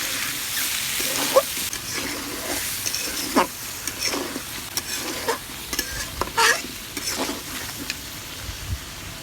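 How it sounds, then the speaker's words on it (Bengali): Dried chillies, bay leaves and garam masala fry in a pan while being stirred. A close, steady sizzle carries repeated scraping stirs and clacks of the spoon at an uneven rhythm. "আর এখন দিয়ে দিচ্ছি শুকনো মরিচ তেজপাতা আর গরম মশলা ভালোভাবে আমরা নেড়ে নেব"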